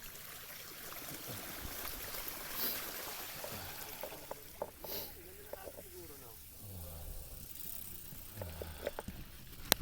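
Rushing water of a stream at a water crossing on an ultra gravel ride, a steady close wash of flowing and splashing water with scattered knocks and brief bursts, and a voice now and then over it.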